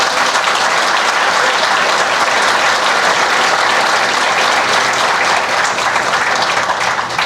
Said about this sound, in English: Let's give a round of applause for Alex, Carrie, James, and Henry.